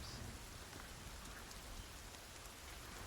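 Steady rain falling on a surface, a dense even patter with no voices, moderately quiet and constant throughout.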